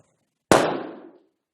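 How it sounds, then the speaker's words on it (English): A helium-filled balloon bursts from an ignition source, giving one sharp, loud pop out of silence that decays over about half a second. "I merely succeeded in popping the balloon"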